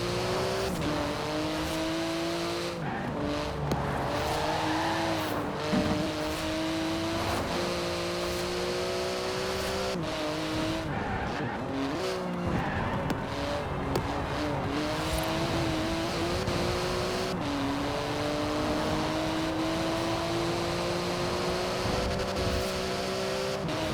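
A street-legal racing car in Forza Horizon 4 revs and accelerates hard through rising gear changes, its engine loud and close and running continuously with no talking.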